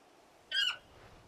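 A single short, bright squawk from a chocobo, the large riding bird of the video game Final Fantasy 16, rising sharply then falling away, fairly close over a quiet background.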